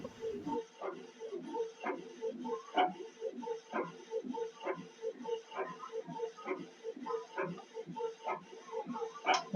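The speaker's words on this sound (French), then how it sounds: "c'est l'imprimante qui est en train d'imprimer par exemple la facture" An office printer prints an invoice from a school management web application, giving a steady run of rhythmic mechanical clicks and whirs at moderate level, close by, with no talk.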